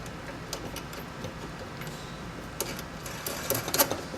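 Mounting nuts spun by hand onto the shanks of a Reliant 3 faucet, giving soft scattered clicks and light scraping rattles up close, a few sharper ticks toward the end.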